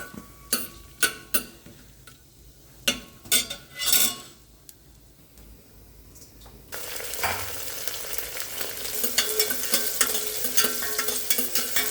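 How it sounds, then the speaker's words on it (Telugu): Cloves, cinnamon and other whole spices and vegetables frying in oil in a pressure cooker over a medium flame: sharp utensil clinks and stirring knocks at first, then a loud, steady sizzle takes over. "కుక్కర్లో వేసి అవి నూనెతో వేయించాలన్నమాట. మీడియం ఫ్లేమ్లో."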